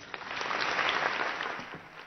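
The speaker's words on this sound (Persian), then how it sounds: "خواهش میکنم تشویق بکن" Audience applause in a hall at the Fajr festival closing ceremony, a steady patter of many hands clapping that swells and then eases slightly, moderately loud and without voices.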